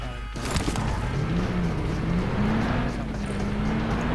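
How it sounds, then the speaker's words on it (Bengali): Vehicle engine in the PUBG Mobile video game, a steady droning hum that climbs slightly in pitch, continuous and fairly loud with no talk over it. "গাড়ির আওয়াজ থেকে বাঁচার জন্য এখানে নামাইছে"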